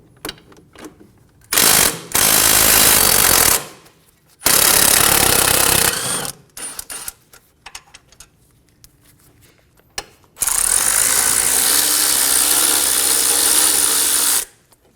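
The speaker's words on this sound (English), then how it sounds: "Using a 17mm socket, remove the 2 caliper bolts." Caliper bolts come off the front steering knuckle of a 2008-2015 Scion xB under a 17mm socket, with loud, close bursts of rattling impact-tool hammering separated by brief gaps and a final long continuous run.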